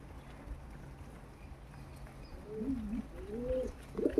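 Pigeons kept at home feeding nearby give soft, low cooing calls in the second half, a few rolling coos close by over a quiet background hum, with no talking.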